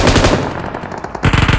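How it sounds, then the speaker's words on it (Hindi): Rapid automatic gunfire in the video game PUBG Mobile (BGMI), loud bursts of machine-gun shots in quick succession, pausing briefly before another burst. "उस पर पता नहीं कौन गोली चला रहा था।"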